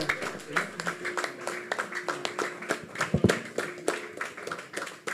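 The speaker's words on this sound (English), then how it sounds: "Ladies and gentlemen, a round of applause as we launch the product" An audience at a digital hub product launch event claps fairly quietly and unevenly, with scattered individual hand claps spread across several seconds and faint voices beneath them.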